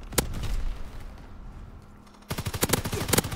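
Call of Duty WWII gameplay: a sharp gunshot at the start, a lull, then a rapid burst of automatic gunfire and blasts close by, with no talking.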